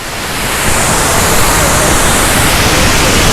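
Steady roar of a waterfall near Chiang Tung, a broad, loud rush of falling water that swells in the first moment and then holds constant, with no talking over it.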